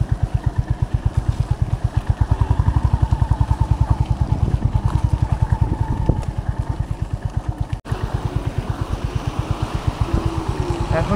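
A Honda CB350 RS motorcycle rides in second gear on a rough road, its single-cylinder engine thumping in a steady, close, loud rhythm throughout.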